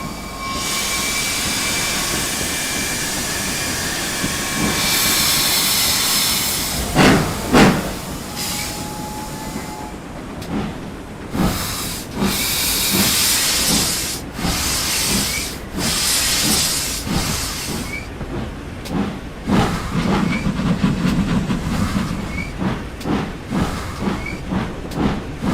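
Steam locomotives on the Torbay Express run with loud hissing steam, rhythmic chuffing and clanking wagons, heard close and continuous, with sharp bursts and rail rattle building toward the end.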